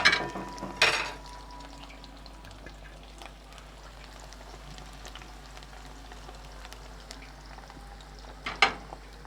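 Potato fries frying in oil, with the pan covered for a while: a soft, steady bubbling fry runs throughout, broken by a clatter near the start and another near the end, probably from the lid or utensils.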